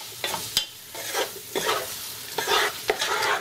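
Salmon and shrimp sizzle in a pan while being stirred, a steady frying hiss broken by several sharp scrapes and clicks of the utensil against the pan.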